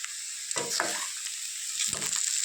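Taro curry frying in a pan with curry leaves, a constant bright sizzle broken by two bursts of stirring and scraping, close and clear with no talk.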